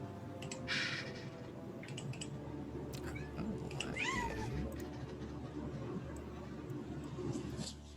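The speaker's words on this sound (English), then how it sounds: "Found a den of kittens." Kittens in a den meowing, several thin high cries standing out over a steady noisy background, with a rising and falling mew near the middle of the stretch.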